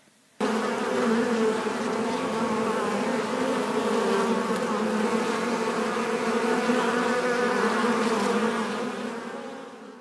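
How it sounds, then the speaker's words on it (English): A dense swarm of hundreds of flies buzzing inside a cottage, a loud, steady, continuous drone that starts abruptly and fills the room without pause, close and alone with no voices. "The cottage was buzzing with hundreds and hundreds of flies."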